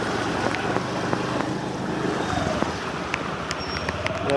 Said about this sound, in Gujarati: આજે આમથી પાણી આવ્યું ખતરનાક પાણી અહીંયા બહુ છે